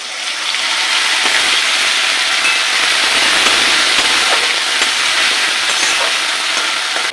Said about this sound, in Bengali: পেঁয়াজটা ভাজা হয়ে গেছে, দিয়ে দিচ্ছি আদা রসুন বাটা।